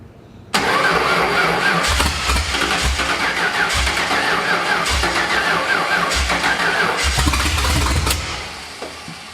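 A 1989 Ford F150 with upgraded fuel injection cranks and fires up abruptly, then runs at a rough, loud idle with uneven low pulses before settling down near the end.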